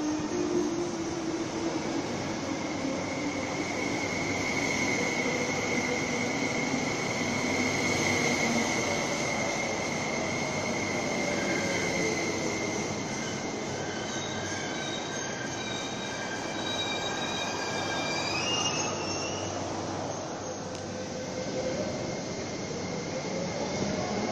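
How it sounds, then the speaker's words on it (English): A Ma On Shan Line metro train pulls into a station, its steady rolling rumble and drawn-out wheel squeal carrying on for over twenty seconds before easing and fading near the end. "The train for Taiwan is approaching."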